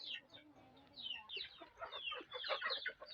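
Native chickens cluck and chatter close by in a busy, overlapping flurry of short calls during feeding, with some scratchy background noise.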